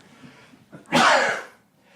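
A single sharp sneeze bursts out close by, preceded by a quick inhale, then fades into quiet.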